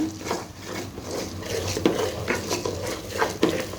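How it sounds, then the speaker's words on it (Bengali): Rice and lentils being stirred as they fry in a pot for khichuri, repeated scraping and clinking of a spoon against the metal with a faint sizzle beneath, close and rhythmic. "এখন এটাকে আমি ভালো করে মিক্স করে নিচ্ছি শনশন আওয়াজ হওয়া আগ পর্যন্ত।"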